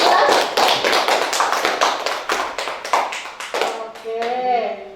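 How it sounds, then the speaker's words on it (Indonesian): A classroom of students claps hands together in a rhythmic patterned clap, loud and close, dense quick bursts, then a voice speaks as it ends. "Tepuk tangan sekali lagi ya kelas."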